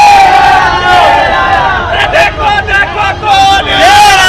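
A large, excited crowd at Kanhaiya Kumar's Lok Sabha nomination rally, a loud continuous roar of massed voices and cheering with shouted calls rising and falling throughout.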